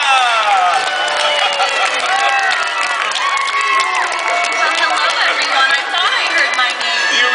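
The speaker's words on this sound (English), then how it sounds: "please put your hands together and cheer for the loveliest princess in all the land, Cinderella!" Audience cheering for Cinderella's entrance at a princess storytelling event at Princess Fantasy Faire: a loud, sustained crowd roar full of excited children's shouts and whoops throughout.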